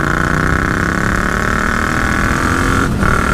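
Yamaha MT-07 motorcycle fitted with an AliExpress exhaust and homemade dB killer, accelerating on the road: a loud, continuous throaty engine drone recorded close, with a brief dip near the end as the throttle shifts.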